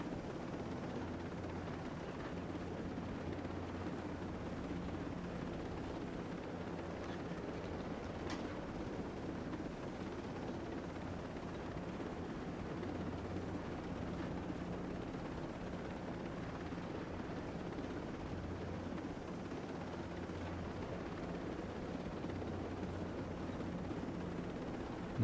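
Steady, continuous helicopter rotor drone from the video game Ghost Recon Breakpoint holds at an even level throughout, low and rumbling with no pauses.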